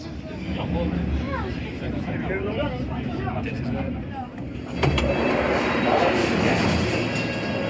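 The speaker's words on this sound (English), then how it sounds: "That was another quick ride on the tube." A London Underground tube train rolls toward Monument station, carrying a low rumbling drone and faint squeals. Partway through, the noise lifts into a louder, brighter rush as the carriage brakes or the doors open.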